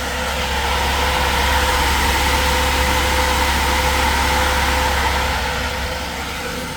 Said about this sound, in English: And I'll turn that on AC so you can hear those fire up.